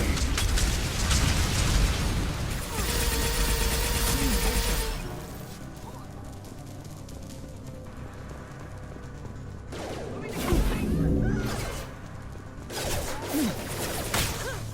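Grenade explosions in the Mass Effect 2 video game, heavy booms and crackling bursts amid gunfire, loud at the start and again near the end, with combat noise between.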